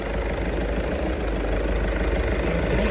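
A used car's engine idles steadily at a car market in Lutsk, Ukraine, with a constant low rumble and a slight knocking undertone, loud, close and unbroken for the whole stretch.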